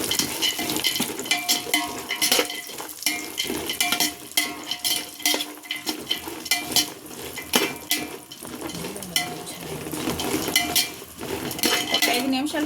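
Cashews and pistachios fry in hot ghee while a metal spoon stirs them against the pan, with busy sizzling and repeated scraping clinks, close and fairly loud.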